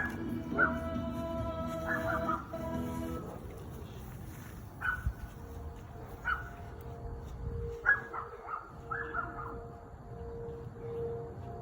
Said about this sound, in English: Get used to those dogs barking, boys.